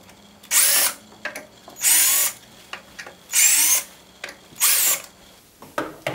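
Power drill unscrewing the four screws on a ZIP X series motor controller: four separate loud whirring bursts of about a second each, spaced evenly and close, with brief handling clicks between them.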